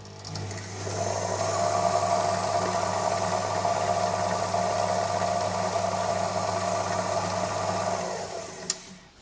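A bandsaw runs with a steady mechanical hum and whir for several seconds before winding down, with a faint click at the end.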